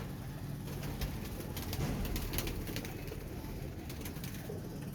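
Rampuri pigeons coo at the Shahdara pigeon market in Lahore, a steady low murmuring that runs without pause under dense market bustle and broadband background noise, with no clear talking.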